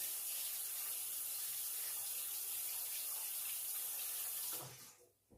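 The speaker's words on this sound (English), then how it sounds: "you know what would be really good now is that spatula. Let me wash it." A spatula being washed under a running kitchen tap, with steady loud water spray hissing for several seconds before the flow is shut off and quickly fades.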